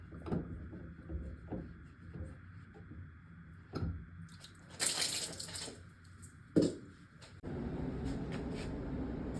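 Water trickles and drips from removed filter housings of an APEC ROES-50 reverse osmosis system in a basement, with intermittent splashes, a brief louder splash, and a steadier running-water wash near the end, all close by.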